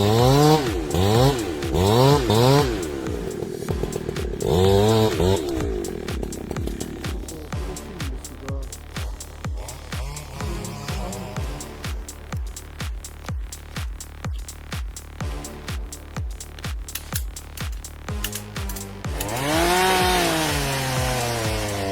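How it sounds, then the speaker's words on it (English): Husqvarna 372 XP chainsaw cutting a tree: repeated revving surges, then a long steady run of rapid rhythmic pulses as the chain bites wood, ending in a high rising rev; fairly close, no speech. "The Husqvarna 372 XP is basically a warrior's sword, built to conquer the toughest cuts."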